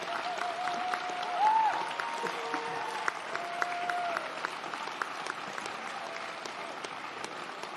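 A graduation ceremony audience at the Salford School of Arts, Media and Creative Tech claps steadily for the whole stretch, a dense, even wash of hands with a faint tonal whine running underneath.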